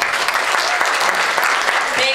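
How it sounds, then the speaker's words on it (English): Applause at a Chinese Canadian Conservative Association annual general meeting, a steady dense patter of clapping throughout with voices mixed in. "So big round of applause for him."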